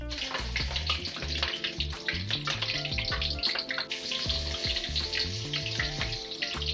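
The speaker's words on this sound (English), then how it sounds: "the first thing I have to do is to fry up my garlic and my large chilies" Garlic and large chilies fry in hot oil, giving a dense, continuous crackling sizzle with sharp pops, close and steady for several seconds with no talking.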